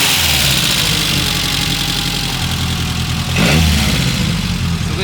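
Peugeot 205 Rallye engine idling steadily at close range, loud and continuous, with a brief blip of revs partway through before settling back to a smooth idle.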